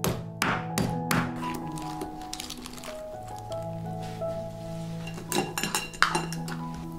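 Pieces of a cleaned crab, cut into quarters with cracked claws, are rinsed under running tap water, clinking and knocking against a dish for several seconds over a steady tonal background.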